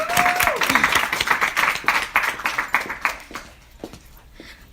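A conference audience claps to welcome a speaker, a brief burst of applause that thins into scattered claps and fades out within a few seconds.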